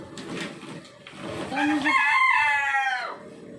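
A rooster crows once nearby, a loud, drawn-out call rising and falling over about two seconds, with faint background chatter before it.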